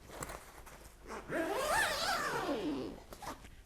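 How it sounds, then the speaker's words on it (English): A zipper on a fabric harp cover is drawn in one smooth, continuous pull lasting about two seconds. It is quiet and close, with a few soft handling rustles before and after. "And then this one has both a zipper"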